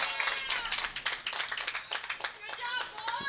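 Baseball players from two teams clap and slap hands in a line after a game, a quick run of crisp slaps under talking voices.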